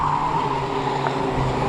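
Ministox race cars coming onto the home straight at Cowdenbeath Racewall: a brief, loud, sustained engine drone with a steady whine throughout, close and continuous.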